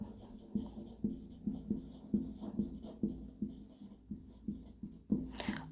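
A pen scratches rhythmically on paper or a board while notes are written during a Class 11 biology lesson on plant growth and gibberellins, steady repeated strokes about twice a second, close and moderately loud, with no talking.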